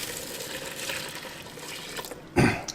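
Water pours steadily into a Ninja Speedi pot, 2.5 cups added for jambalaya, a close continuous splashing that swells into a louder gush near the end.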